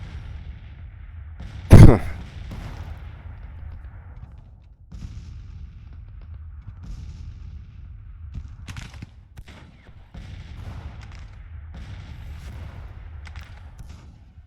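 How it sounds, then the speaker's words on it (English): A single loud artillery boom from a Civil War cannon battle in the strategy game Grand Tactician: The Civil War, followed by faint scattered distant shots and battlefield rumble. "they're firing on us now, so we got to silence this artillery"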